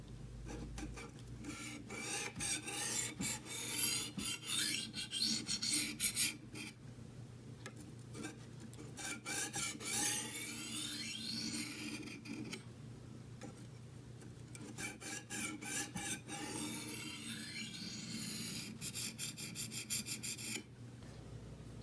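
Knife blade scraping across a coarse whetstone in repeated back-and-forth strokes, a loud rasping grind in bursts with brief pauses between passes, close up and without talk.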